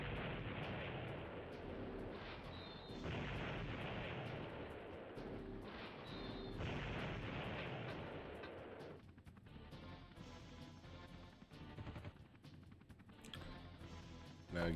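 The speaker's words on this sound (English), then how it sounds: "Start spawning and just one shot them with the homing missiles." Homing missiles launching and exploding in the N64 game Army Men: Air Combat, a dense, loud wash of repeated booms and bursts for the first nine seconds, then thinner scattered blasts and rumble.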